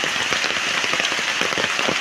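Heavy rain pours down in a dense, steady hiss, pattering hard on surfaces close by, continuous and loud with no voices.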